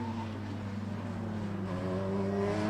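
Radical race cars from the 2015 Radical Sprint Championship at Snetterton accelerate along the circuit's centre straight. Their engines give a loud, continuous drone that climbs steadily in pitch, with no talk over it.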